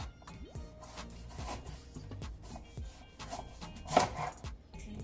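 Carrots being sliced with a knife on a cutting board in a home kitchen, a run of close, irregular chopping taps and rubbing scrapes with one sharper knock partway through.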